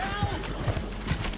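Horses' hooves clip-clop at a walk as a mounted cavalry militia rides in formation, a steady, fairly close patter blended under ongoing talk.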